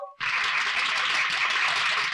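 Applause from a crowd at an outdoor street show, a dense continuous burst of many hands clapping that starts abruptly after a short faint tone and holds steady and loud to the end.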